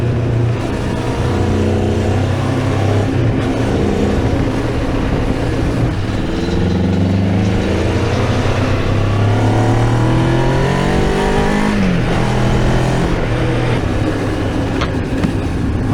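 A Moto Morini X-Cape 700 motorcycle engine accelerates hard on a test ride, its loud close exhaust note climbing and falling through repeated revs as the throttle opens through curves.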